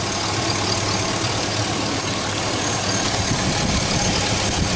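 A GMC Yukon engine with a misfire runs steadily at close range, a dense, even mechanical hum and rumble without pauses and no voices.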